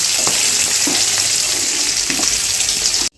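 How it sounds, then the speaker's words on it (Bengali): Paneer pieces frying in hot oil until reddened, giving a dense, close, continuous sizzle with scattered soft crackles, cutting off abruptly at the end. "যখন একটু ভাজা ভাজা হয়ে আসছে, লাল লাল হয়ে যাবে, তখন তুলে নেবেন"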